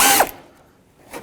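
A ratchet loosening a bolt on a 2002-06 Toyota Camry radiator assembly: a short loud burst of rapid clicking up close, then quiet, then a fainter brief click near the end.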